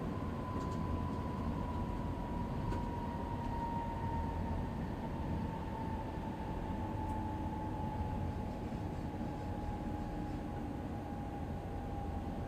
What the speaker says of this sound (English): you always just hear the rails and the train and the horn